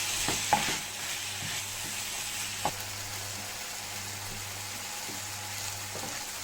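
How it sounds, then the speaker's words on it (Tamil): Chopped tomatoes sauté in a hot pan for a chickpea curry (kadala curry), giving a steady, close sizzle with a few soft stirring knocks and no voices. "தக்காளி நல்லா குழையிற அளவுக்கு வதக்கிக்கலாம்."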